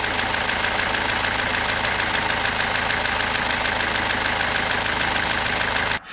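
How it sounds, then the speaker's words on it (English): A Vauxhall Corsa C engine with an oil leak idles steadily and loudly at close range, a constant droning rumble that cuts off abruptly at the very end. "obviously the engine was running, so it was a bit of a funny noise"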